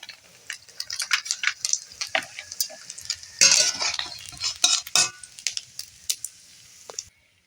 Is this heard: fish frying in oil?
yes